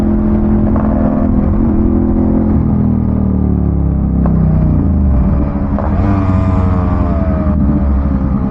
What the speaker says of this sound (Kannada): ಥ್ರಾಟಲ್ ಕೊಟ್ಟ ತಕ್ಷಣ ಇನಿಷಿಯಲ್ ಫುಲ್ ತಗೋತಾ ಇದೆ.